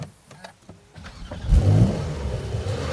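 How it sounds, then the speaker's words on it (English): A 2023 Porsche 911 Carrera GTS engine cranks and fires up, roaring loud and close into a deep, raspy idle after a quiet start with faint clicks. "Now that engine, it certainly sounds good when you fire it up."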